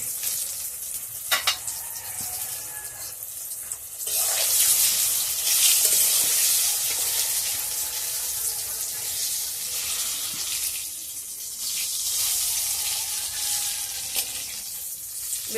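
Brinjal pieces frying and sizzling in a pan, a continuous crackling sizzle that rises louder when the lid comes off, with occasional stirring clatter.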